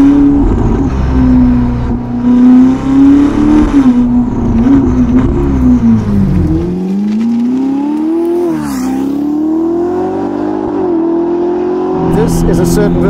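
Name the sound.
Ferrari SF90 Spider engine revving with Novitec exhaust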